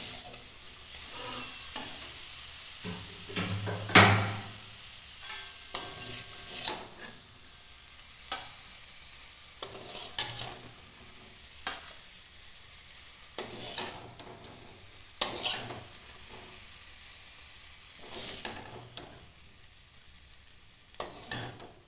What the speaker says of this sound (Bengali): ফুলকপিগুলো আমি ভালো করে ভাজা ভাজা করে নিয়েছি